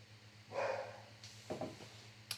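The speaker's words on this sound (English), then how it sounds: "there's Dexter barking" A dog named Dexter barks a few times in the background, the short yaps fairly faint and set against a steady low hum.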